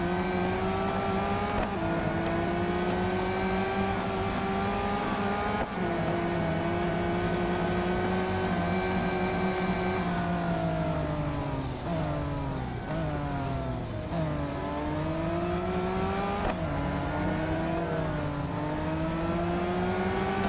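Race car engines in the mobile racing game Real Racing 3 whine and rev continuously, with pitch climbing and dropping through gear shifts and a brief dip midway, loud and close with no talking.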